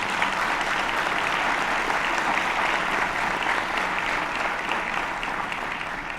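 Steady, sustained applause from a large crowd, dense and continuous, fading slightly toward the end.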